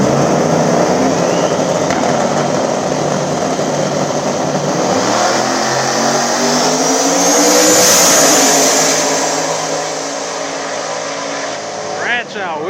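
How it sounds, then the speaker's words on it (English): No-prep small-tire drag racers, including a turbo Ford Ranger, launch and scream down the strip together, engines rising in pitch with gear changes before fading, loud and close with a crowd-like wash underneath. "Turbo Ford Ranger on the outside taking on Willie Dynamite."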